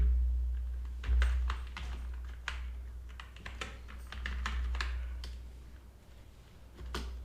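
Fingers tap out a steady run of clicks on a computer keyboard while writing MySQL table code, close and crisp with small pauses between bursts of keystrokes.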